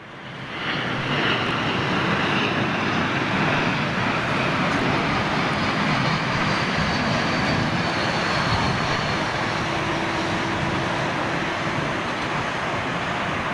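An Emirates airliner taxis at London Heathrow, giving a steady, loud jet-engine roar that holds evenly throughout with no talk.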